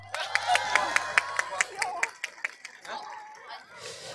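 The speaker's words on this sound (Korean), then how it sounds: "박수 쳐주세요." Scattered clapping from an outdoor church service crowd during a prize draw, a run of distinct claps that thins out after a couple of seconds, with faint murmuring underneath.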